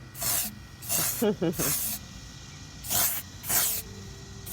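A spray paint can hisses in four short bursts, close and loud, with a brief rattle of the can being shaken between sprays.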